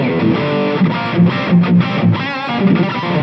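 Distorted drive tone from a Gibson Custom Shop SG Standard electric guitar, with sustained overdriven chords and a few picked notes at loud, steady level, plus a brief spoken syllable.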